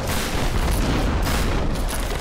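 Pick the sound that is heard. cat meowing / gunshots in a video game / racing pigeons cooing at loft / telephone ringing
gunshots in a video game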